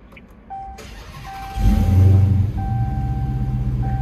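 A 2022 Dodge Charger SRT Hellcat Widebody with no muffler cranks briefly and fires up with a loud, deep rumble, then settles into a steady, throaty idle close by.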